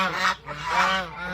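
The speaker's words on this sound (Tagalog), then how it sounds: "Gansa at saka mga pato, ang lalaki na dito." Two loud nasal honks from a goose on a small farm, where ducks are also kept, ring out close by in quick succession with a brief gap between them.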